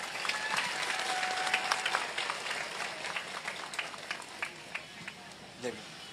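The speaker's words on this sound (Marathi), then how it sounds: "एक मोठा टाळ्यांचा हात सरांसाठी येऊन जाऊ देत प्लीज" A crowd at an outdoor political rally in Shirol, Kolhapur gives a long burst of applause in heavy rain, dense clapping that gradually thins into scattered claps, with voices mixed in.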